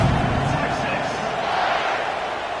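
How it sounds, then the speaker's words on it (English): A college football stadium crowd buzzes with a dense, steady roar of many voices at a game between TeAs305 and USC, heard continuously beneath a commentator talking. "this crowd is buzzing after that last score"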